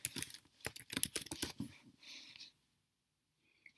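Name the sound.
typing on a computer keyboard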